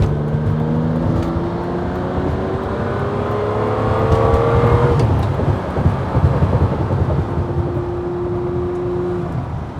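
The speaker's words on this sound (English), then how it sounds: "This is where my 456 really comes into her own. High speed cruising. And we shift into fifth." Ferrari 456 GT V12 accelerating hard up a freeway on-ramp, loud rising engine harmonics that climb, drop at a gear change, then settle into a steady high-speed cruise tone with road roar.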